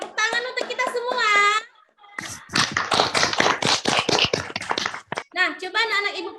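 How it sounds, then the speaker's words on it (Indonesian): A classroom of children bursts into a few seconds of lively applause, sandwiched between a teacher's talking at the start and end. "Tepuk tangan untuk kita semua."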